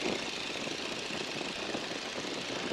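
Boeing Stearman biplane engine throttled back to idle, heard from the cockpit as a steady, loud rushing drone of engine and wind without change throughout.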